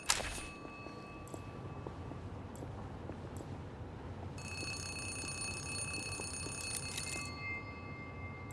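A telephone rings in the video game Zero Parades, a steady bell-like electronic ring with a bright tone that carries on through most of the stretch, heard alone with no talking.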